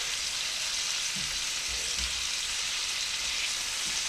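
Roast beef browning in a hot pan ahead of going into a slow cooker for sandwiches, giving a steady, even sizzle with a few soft low bumps from the meat shifting. No one talks.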